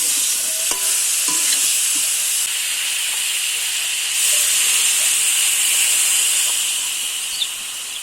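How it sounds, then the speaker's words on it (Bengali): Drumsticks and tomatoes fry in a pan with a loud, steady hissing sizzle, a few clanks and scrapes of stirring early on, and the hiss swells midway. "দিয়ে হালকা একটু নেড়ে চেড়ে কষিয়ে নিয়ে তারপর ঝোলের জল দিয়ে দেব।"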